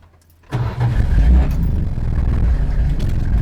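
A motorcycle engine turns over and settles into a steady, rumbling idle close by, loud and continuous after a brief quiet start.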